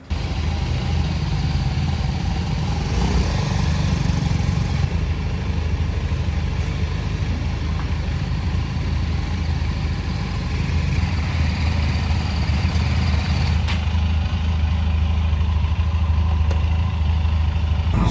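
A steady, loud motorcycle engine (Benelli TRK 502 X, 2025) idles continuously with a low rumbling drone, close by and unchanging throughout, with no voices.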